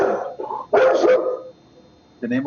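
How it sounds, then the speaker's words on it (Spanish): A small female dog barks close by in several sharp, loud yaps, then pauses before barking again. "esta perrita que yo tengo a veces se alborota"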